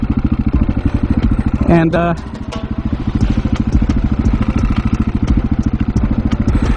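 A motorcycle engine chugs with a rapid, steady pulsing beat during a wheelie on a road, up close and loud, briefly dipping and recovering midway while a voice speaks over it.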